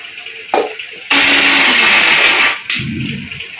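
Kitchen blender grinding cashew nuts and poppy seeds into a paste in loud, harsh bursts: a brief pulse, then a sustained whirring grind of about a second and a half, then a lower-pitched churning run, all close.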